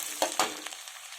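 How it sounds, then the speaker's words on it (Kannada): Hot oil crackling in a pan with mustard seeds and finely chopped onion, a short burst of sharp spluttering pops that fades into a softer sizzle. "ಪಟಪಟ ಅಂತ ಇದೆ ಸಾಸಿವೆ ಈರುಳ್ಳಿ ಹಾಕ್ತೀನಿ"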